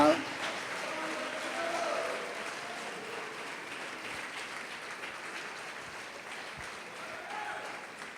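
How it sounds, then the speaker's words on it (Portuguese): A church congregation applauds during a Portuguese-language worship service, steady broadband clapping sustained throughout, with a few cheers and voices mixed into the crowd noise. "Pode aplaudir, adorar e dar glória."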